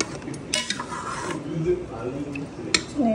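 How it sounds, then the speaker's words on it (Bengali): A spoon scraping and clanking inside a pressure cooker pot while meat is stirred, a few sharp metallic knocks over a soft continuous scrape, with someone speaking alongside. "নেড়ে চেড়ে দিলাম।"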